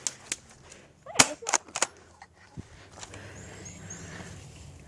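Several sharp airsoft gun shots crack in a backyard, a handful of quick pops clustered together then one more, moderately close, followed by quiet outdoor ambience.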